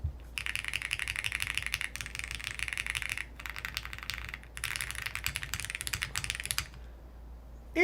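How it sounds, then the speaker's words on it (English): Steady rapid clacking of a mechanical computer keyboard with MX2A switches, close and continuous in bursts with brief pauses, no voices over it. "It's so you guys can hear the keyboard."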